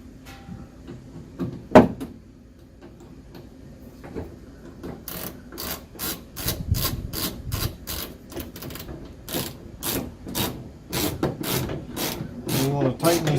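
Screwdriver driving screws into the plastic tail light assembly of a 2016 Ford F-150, a close, rapid series of ratcheting clicks that grows steadier and denser toward the end.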